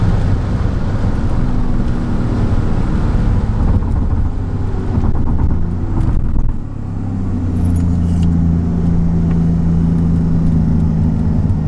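A Mercedes-Benz E55 AMG W210 with a Kleemann 55-K2 supercharger and a misfire is heard from inside while driving, a loud steady engine drone that briefly dips around a gear change back into drive, then settles into a lower hum.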